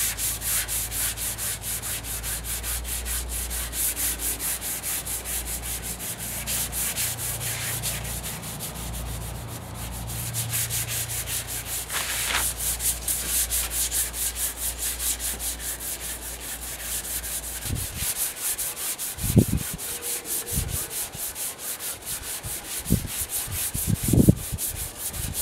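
A 220-grit sanding block is rubbed by hand over the radiator grille of a 1956 Ford pickup. Long, steady scraping strokes continue for many seconds, followed by a few sharp knocks and handling sounds near the end.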